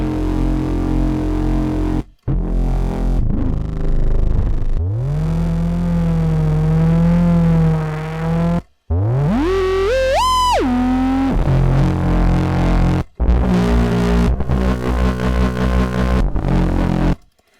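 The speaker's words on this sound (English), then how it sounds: "You can make a really nice foghorny bass with this one as well." A deep, droning synthesizer bass like a foghorn, from a Massive drum-and-bass preset, holds long low notes, with wobbling pitch and a sharp upward sweep partway through.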